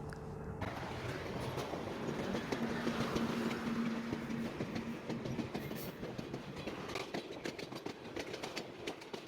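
Steady, close rumble and rhythmic rail clatter inside a passenger train running from Jessore to Dhaka, with a chilled cabin, continuing unbroken throughout with no talk.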